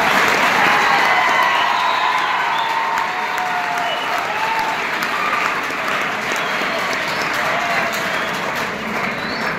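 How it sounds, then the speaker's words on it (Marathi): Strong, sustained applause for Redkar sir from the audience at a free government competitive-exam guidance camp at a junior college in Khed, a dense wash of clapping that fills the whole stretch. "आदरणीय रेडकर सरांसाठी जोरदार टाळ्या होत्या"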